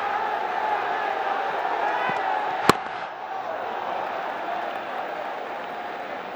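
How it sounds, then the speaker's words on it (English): Cricket stadium crowd at a BPL 2025 qualifier between Chittagong Kings and Fortune Barishal, a steady broad roar of cheering spectators filling the whole stretch, with a single sharp slam-like crack partway through. "Gets the crowd going."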